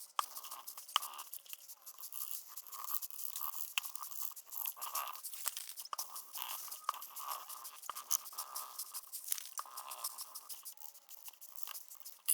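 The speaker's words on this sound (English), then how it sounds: "I'm going to use a toothbrush to get around these edges." A toothbrush scrubs acetone around the edges of a Gibson Les Paul Studio guitar body in steady rapid bristly strokes, close and hissy, continuing without pause and with no voices.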